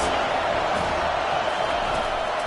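A football stadium crowd roars behind the home defense on a big third down, a dense, steady wall of cheering and noise that holds without a break for the whole stretch.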